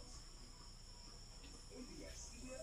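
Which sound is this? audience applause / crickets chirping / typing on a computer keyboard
crickets chirping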